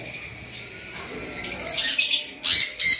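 A pair of lovebirds chirps in short bright bursts, with louder calls near the end over a low background hum.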